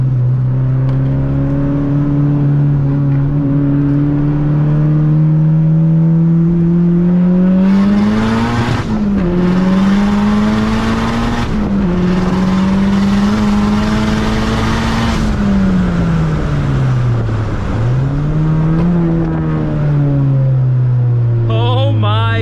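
A turbocharged 600-plus horsepower Mazdaspeed3 accelerates hard through turns, its loud engine note climbing in pitch from inside the car, then dipping sharply at several gear shifts before climbing again.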